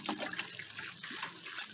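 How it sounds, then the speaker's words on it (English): Water poured into small plant pots filled with sugar sand for blueberry cuttings, a steady close trickle and splash that runs through the whole short stretch with no talk. "next I'm going to water them"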